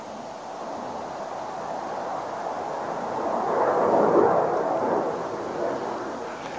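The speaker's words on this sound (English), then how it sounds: "That's the sound of F-15s taking off." A distant jet engine roar swells and then fades into a broad rumble, with no voices present.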